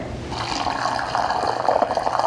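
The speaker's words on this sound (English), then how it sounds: "Now let's pour some syrup in there." Boiling sugar syrup pours into a canning jar packed with pears, a steady liquid gurgle that rises in pitch and grows louder as the jar fills, close and continuous.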